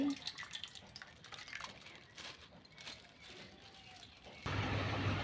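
Vegetable curry of pumpkin, peas and potato is poured out as a breakfast serving, giving soft liquid drips and splashes over faint background noise, ending in a louder, steady wash of sound.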